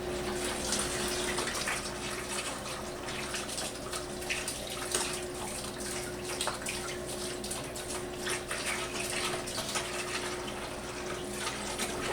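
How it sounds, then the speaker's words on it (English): Chilled beer wort pours steadily into a sanitized plastic fermenting bucket, a continuous close splashing rush of liquid with no break. "now that our wort is chilled, we can start adding it into our fermenting bucket"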